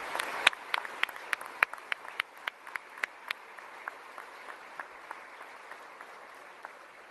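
An audience at a Southcom leadership transition ceremony applauds the 13th Band, with scattered sharp individual claps over a softer, thinning patter that fades as the applause dies down.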